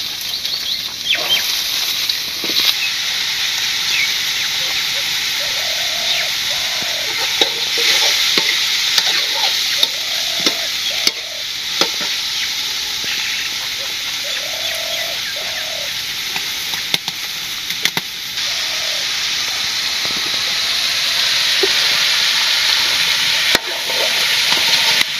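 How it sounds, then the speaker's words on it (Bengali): Onions fry in a pan, a steady loud sizzle and hiss with occasional stirring scrapes and soft patters throughout, with no talking. "পেঁয়াজটাকে ভাজি করে নেই, কষিয়ে নেই"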